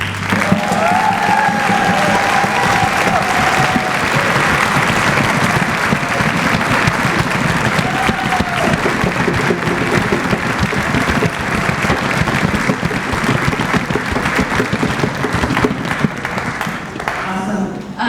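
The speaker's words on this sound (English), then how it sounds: "8th graders, please stand up and let's give them a round of applause" Sustained applause from a concert audience for 8th graders at a spring youth orchestra concert, a thick, even roar of many hands with some crowd noise, lasting well over fifteen seconds and loud throughout.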